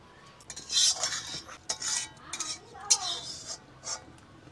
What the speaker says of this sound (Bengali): এখন আমি তরকারি ঢেলে নেব।